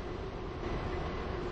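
Train pulling into a station platform in the railway game Stepford County Railway, a low steady rumble of wheels and motor, fairly quiet and continuous with no other sounds over it.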